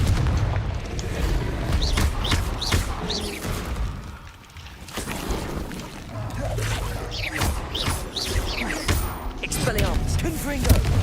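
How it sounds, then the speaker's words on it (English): Confringo blasting spells in Hogwarts Legacy, repeated booming explosions and crackling magic bursts in quick succession, loud and close, with a player's voice speaking over the game action. "Confringo!"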